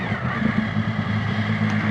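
A Triumph Speed Triple motorcycle rides along the Amalfi coast, its engine a steady, close, low drone mixed with wind rush and no speech.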